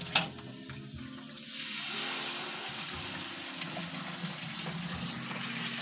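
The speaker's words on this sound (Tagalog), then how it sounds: "ibubuhos mo yung original tomato sauce" Tomato sauce poured into a paella pan at an outdoor garden kitchen, a steady close liquid pour and gush lasting several seconds, fairly faint, with no talk.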